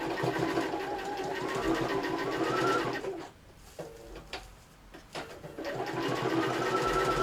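A domestic sewing machine stitches fabric in steady, close whirring runs that stop briefly midway for a few short bursts before the continuous stitching resumes.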